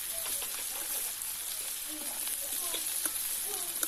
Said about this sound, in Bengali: এবার পেঁয়াজগুলোকে হালকা বাদামি করে ভেজে নেব।